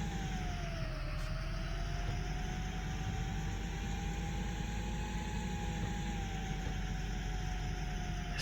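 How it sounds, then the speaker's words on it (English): A tractor engine in Farming Simulator 2015 labours steadily uphill, a continuous droning whine that dips briefly and slowly rises in pitch as it strains, loud and constant with no talk. "I would have thought this tractor would be able to pull up this hill pretty nice. It just seems to get bogged down way too easy."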